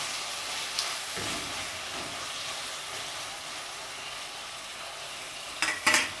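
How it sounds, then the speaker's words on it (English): Fresh herbs and saltfish sauté in a pan, giving a steady, moderate sizzle with a faint hiss, a few soft stirring scrapes and a brief clatter near the end. "So I'm gonna allow that to saute for about 2 minutes."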